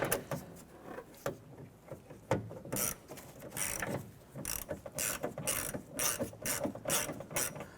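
A ratchet clicks in rapid bursts as it tightens the door latch bolt on a 1994-2004 Chevrolet S10, with short pauses between strokes, recorded close up.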